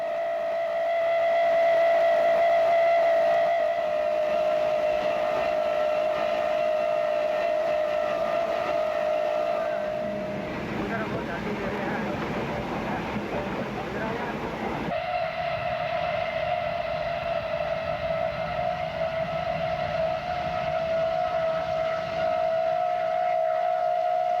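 A steam train on a single-track line rumbles steadily while a long, loud whistle sounds, breaks off briefly, then resumes and holds on and on.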